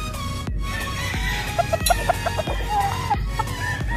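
Gamefowl roosters and hens in a backyard farm cluck in quick, close bursts, a run of short clucks and squawks with one brief higher call, over a busy background of other fowl noise.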